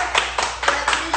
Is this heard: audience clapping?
yes